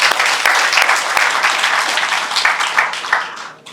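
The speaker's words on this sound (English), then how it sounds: "So a round of applause for them all" Loud, dense applause from a crowd at a store opening in a mall, cheering dancers from a national dance school, with steady thick clapping that fades out toward the end.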